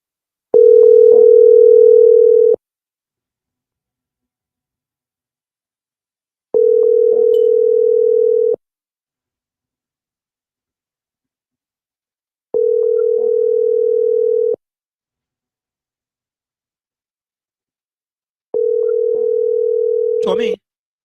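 Telephone ringback tone heard while dialing a number during a talk-radio call, four steady long tones separated by silent gaps, loud and close.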